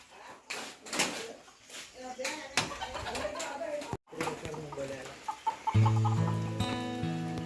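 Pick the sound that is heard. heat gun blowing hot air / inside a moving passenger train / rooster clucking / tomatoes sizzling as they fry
rooster clucking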